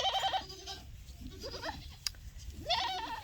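Goats on a farm bleating in several short, wavering cries, fairly close, with quiet pauses between calls and a brief click partway through.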